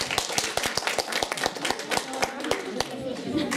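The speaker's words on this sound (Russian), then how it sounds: "Поддержите уж по-настоящему, хорошими аплодисментами, бурными." A hall audience claps, sharp irregular hand claps scattered across the room, fairly close and lively, with a voice talking over the applause.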